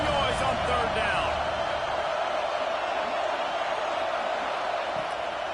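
Stadium crowd at a football game roaring on third down, a dense, loud, continuous wash of noise that holds steady throughout, with a commentator's voice faintly under it.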